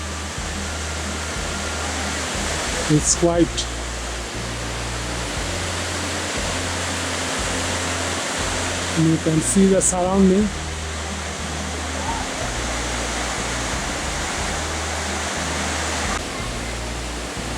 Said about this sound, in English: We are now close to the waterfall.